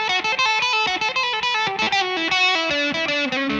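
Rockabilly lick on a Les Paul electric guitar through a Mesa Boogie amp: quick, clipped distorted single notes in a bouncy, rapid run, close and loud with no voices.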